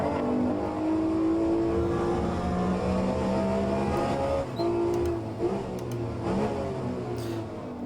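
Lamborghini race car engine in a racing video game at Mount Panorama, a steady loud drone with rising and falling pitch through gear changes, continuous and close with no talk.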